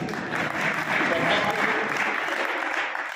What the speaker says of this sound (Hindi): नेताजी तालियां बजा रहे हैं, सभी लोग बजा दीजिए।